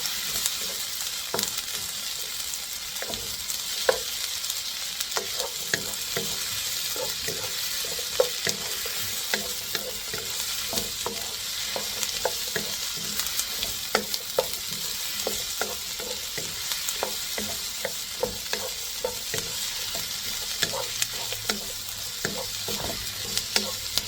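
Green beans sizzle and fry steadily in a pan while being cooked for pancit canton, with frequent stirring scrapes and clicks throughout, close and continuous with no talk.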